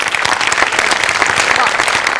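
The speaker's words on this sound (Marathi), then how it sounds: "अमोलसाठी एकदा जोरदार टाळ्या व्हायला पाहिजे" A comedy-show studio audience bursts into loud, close, continuous applause, with dense rapid clapping sustained from start to finish.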